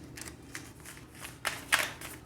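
Tarot cards riffle and slap together in a few short bursts, the loudest near the end, with soft rustling in between; close and moderately quiet, with no talking.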